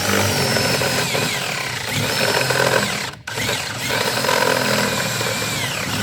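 A power drill bores a 3/8 hole with a loud, steady whine that briefly drops out when the bit catches, then resumes at full speed.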